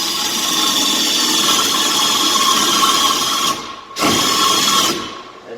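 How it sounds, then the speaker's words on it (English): A power drill fitted with a speed bit bores a hole into timber while a rake is being mortised, a loud continuous whine that cuts out briefly near the end and then resumes before stopping. "drill down in to about where the collar on the speed bit stops"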